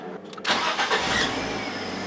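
A Fiat Panda 1.2 engine cranks briefly after a cambelt replacement and catches, settling into a steady running rumble, close and fairly loud with no voices.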